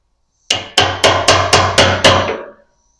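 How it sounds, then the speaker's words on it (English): Seven sharp metallic hammer taps in an even rhythm, close and loud, each ringing briefly, as a part on a 1973 Mercury Cougar XR7 is tapped into place during gas tank work. "I'm going to tap it in place like I did the other one."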